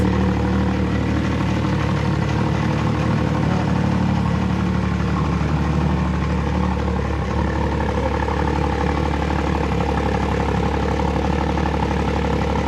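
A rebuilt CanAm X3 Maverick turbo engine runs steadily at idle, a loud, close, continuous mechanical drone with no voices over it.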